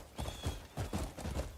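Horse hooves clip-clop in a video game, a near, moderately quiet series of uneven thuds in small clusters across under two seconds, with no voices.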